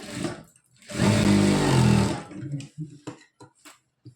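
A sewing machine stitches lining around a lehenga body piece in a steady burst of about a second, followed by a few short, faint ticks and handling noises.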